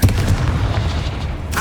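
Fire spell explosions in the Hogwarts Legacy video game: a sustained, loud rumbling blast with dense low-end booming that carries through, and a sharper burst flaring at the end.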